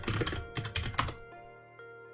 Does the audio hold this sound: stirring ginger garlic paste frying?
no